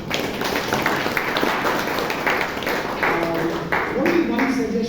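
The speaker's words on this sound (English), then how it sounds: "A round of applause to you, sir." An audience claps at a Toastmasters club meeting in Bangalore, with a burst of clapping sustained for several seconds in a room with some reverberation.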